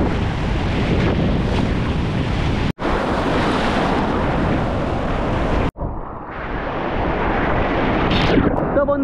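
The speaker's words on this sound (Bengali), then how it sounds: "কি দারুণভাবে আসছে ঢেউটা" Sea waves roll in with a constant roar of surf and gusting wind buffeting the microphone at Bakkhali beach in June, loud and close, broken by two brief cuts, with no talking.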